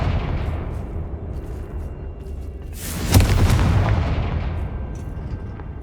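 Confringo fire spell blast in the video game Hogwarts Legacy, a single loud booming burst mid-clip that rises over a dense, rumbling game soundscape and decays over a couple of seconds.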